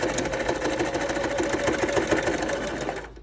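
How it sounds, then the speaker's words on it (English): Sewing machine stitching elastic into a face mask seam, with a short back stitch to lock it. A steady, loud, continuous run of fast needle strokes lasting almost the whole time, then stopping abruptly at the end. "you're gonna have to back stitch it a little bit to lock it in"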